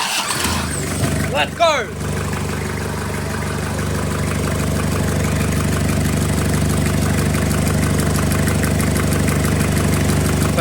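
A Toyota Hilux LN167, fitted with a secondhand Land Cruiser starter motor, cranks briefly and fires up, then settles into a steady, fairly loud idle that runs on continuously, with a short shout over the start.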